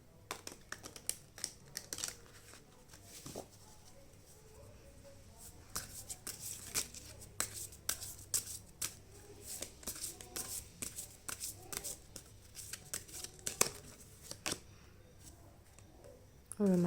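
Tarot cards shuffled and drawn in a series of crisp riffles, flicks and slides, close and fairly quiet, with someone speaking softly between the card sounds.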